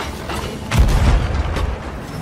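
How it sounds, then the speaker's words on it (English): A deep ship's cannon boom in Sea of Thieves hits loudly and rolls out into a rumbling echo, followed by a second fainter thump in a noisy naval battle scene. "Get onto the cannons"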